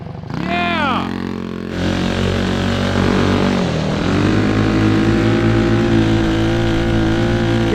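A Power Wheels Bronco go-kart motor whines and revs hard, rising to a sustained high-RPM buzz after a brief dip. The sound is close and loud, with excited voices talking over it.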